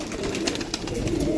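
Commander pigeons cooing close by, a soft low warbling coo running through the whole brief moment against light background noise.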